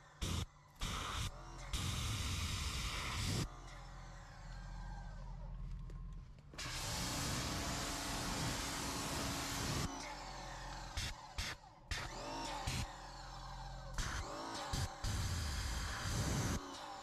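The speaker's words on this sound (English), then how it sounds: "drying the wheel with forced air makes quick and easy work of it." Forced-air blower drying a ceramic-coated car wheel, a loud broadband whoosh in several long bursts separated by brief pauses, close to the mic with no talk.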